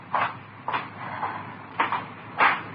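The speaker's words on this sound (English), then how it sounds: "Here, Lil, get me that hammer out of the drawer." A wooden drawer being pulled open and rummaged for a hammer in an old radio drama: four separate knocking, sliding thumps spaced across a few seconds over a steady background hiss.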